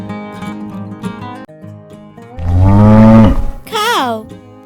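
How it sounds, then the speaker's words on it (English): A cow moos loudly in one long, drawn-out call near the middle, over a steady musical background, with a shorter rising animal call following at the end. "Cow."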